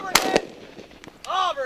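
Shotguns fire at pigeons during a pigeon hunting contest: two sharp close blasts in quick succession, followed by a fainter third report and a loud shout.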